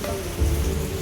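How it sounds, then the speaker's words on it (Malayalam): Steady rain falling in Kottayam, a dense continuous hiss with a low rumble underneath, unbroken throughout and without voices. "മഴ"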